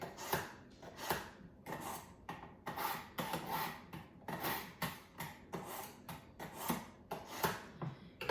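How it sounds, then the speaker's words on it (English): A kitchen knife is drawn through a simple manual sharpener in repeated quick strokes, each a close, scraping rasp, about a dozen passes in a steady irregular rhythm. "you just run your blade along one of those inside points there, and it sharpens it up"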